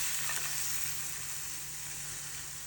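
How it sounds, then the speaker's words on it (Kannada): Milk poured into melted butter in a frying pan for white sauce, giving a steady, soft hissing sizzle that holds evenly throughout without any talk. "ಇವಾಗ ನಾನು ಮಿಲ್ಕ್ ಆ್ಯಡ್ ಮಾಡ್ತಾ ಇದ್ದೀನಿ"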